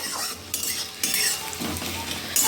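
Carrot stir-fried for chow mein in a home kitchen pan, a steady loud sizzle broken by scraping spatula strokes and metal clinks at regular intervals, close and without voices.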